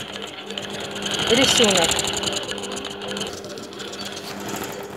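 A long arm quilting machine stitches a design into a quilt block at a moderate speed setting, giving a rapid, continuous mechanical chatter while someone talks in Russian over it.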